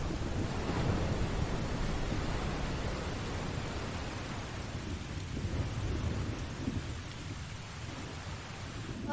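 A thunderstorm in Tales of Berseria brings heavy, steady rain and deep rolling thunder. The rumble is loudest at the start and eases into a continuous wash of downpour.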